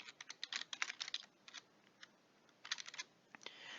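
Typing on a computer keyboard while setting up an Arma 3 mission in the Eden Editor, quiet clustered key clicks in short bursts with pauses, close and alone without voices.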